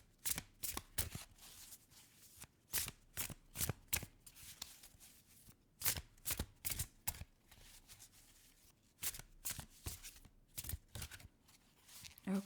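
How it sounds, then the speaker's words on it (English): Cards being shuffled by hand before a tarot-style reading, with repeated bursts of crisp riffling and flicking in clusters separated by short pauses, close and quiet, with no talk. "let's shuffle and see what we get here"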